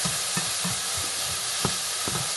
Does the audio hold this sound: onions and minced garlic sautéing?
yes